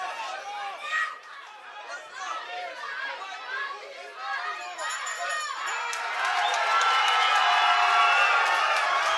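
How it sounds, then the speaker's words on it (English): A crowd cheers for a fighter at a live fight event in Sheffield. Dense chatter and shouting fill a large room and swell into louder, sustained cheering toward the end. "All cheering for Ladislav."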